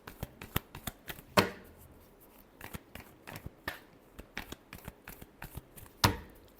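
Tarot cards being shuffled by hand in a steady run of crisp riffling flicks, with two louder, fuller bursts standing out from the quicker taps; close and fairly quiet, with no talking.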